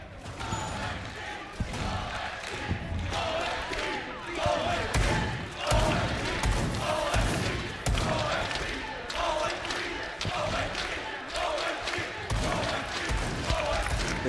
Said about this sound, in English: The crowd, once again, a lot louder than that first map here